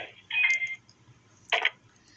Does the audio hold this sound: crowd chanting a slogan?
no